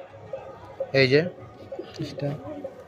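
A racing pigeon coos in short low calls while people talk close by, one louder vocal burst standing out near the middle.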